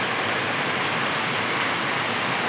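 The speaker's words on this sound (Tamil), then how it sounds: "தேவைக்கு அதிகமாக மழை பெய்கிறது" Heavy rain pours down in a dense, steady hiss, loud and unbroken, with no voices.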